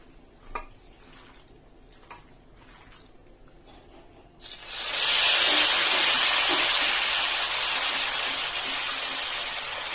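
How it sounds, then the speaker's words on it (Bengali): Marinated fish hits a hot wok over a low flame and breaks into a loud, sustained sizzle that holds steady to the end, after a few faint clinks in a quiet kitchen. "এবার আমি মাখানো মাছটাকে কড়াইয়ের মধ্যে দিয়ে দেবো।"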